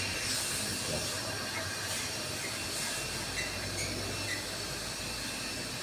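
Engine oil draining in a steady continuous hiss and rush from the open drain plug of an Omoda C5, with no talk.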